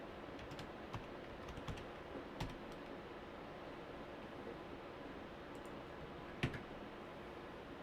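Computer keyboard typing, sparse clicks and key taps scattered over a steady background hiss, close and fairly quiet, with a sharper click near the end.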